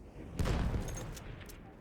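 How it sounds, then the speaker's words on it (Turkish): Gunfire from a machine gun in the Battlefield 1 video game: a burst of rapid shots that starts sharply and decays into a dense rattle, moderately loud and mid-distance. "Makinalı tüfek."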